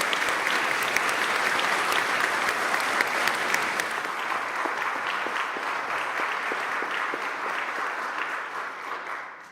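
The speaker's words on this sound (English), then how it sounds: "Let's give a round of applause." Sustained audience applause at a food co-op's annual meeting, a full, even roar of clapping hands that holds for several seconds and then begins to thin and fade toward the end.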